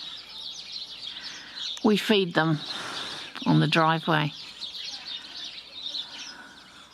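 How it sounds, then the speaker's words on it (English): House sparrows chirp from a tree in a Lower Hutt, New Zealand garden, a steady thin twitter of many small birds running throughout, with people talking briefly over it in the middle. "See all the sparrows? You can probably hear them. They're everywhere in that tree."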